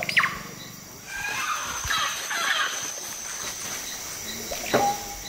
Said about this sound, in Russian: Целый оркестр поющих птиц